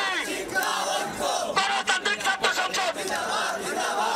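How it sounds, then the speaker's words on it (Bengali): A crowd of protesting students chants slogans loudly and rhythmically at Madhur Canteen during a scuffle, many voices shouting together in bursts, close and dense, with the chanting surging and pausing. "দুই পক্ষের স্লোগানে পুরো মধুর ক্যান্টিন এলাকায় উত্তেজনা ছড়িয়ে"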